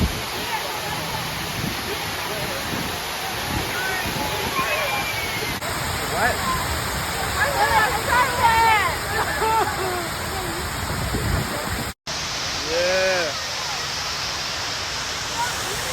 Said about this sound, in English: Big waterfalls.